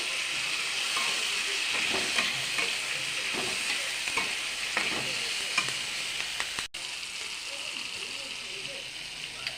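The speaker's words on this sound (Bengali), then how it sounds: "কিছু পরিমাণ চার মগজ দিয়ে দেব একসাথে ভেজে নেব" Char magaj melon seeds and spices fry in a pan with a steady, close sizzle and hiss, broken by irregular scrapes and clicks of stirring throughout.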